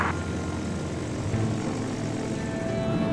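A propeller aircraft idles and taxis for departure, its engine giving a steady, loud drone with a low throb and a faint high whine, and no voices.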